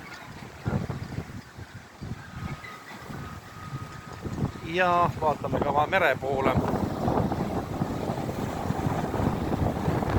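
Autumn storm wind blowing hard near the sea, rumbling gusts buffeting the microphone in a continuous roar that swells louder in the second half, with someone speaking briefly partway through.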